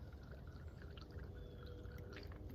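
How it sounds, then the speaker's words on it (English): Liquid poured into a model volcano to set off an eruption, a steady quiet pouring and dripping wash lasting the whole stretch, with no talk. "Now, as we pour it in there,"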